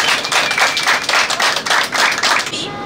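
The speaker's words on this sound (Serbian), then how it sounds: "aplauz!" Applause breaks out inside a bus during a wedding ceremony, a dense burst of clapping from a small group that rolls on for nearly three seconds before stopping abruptly.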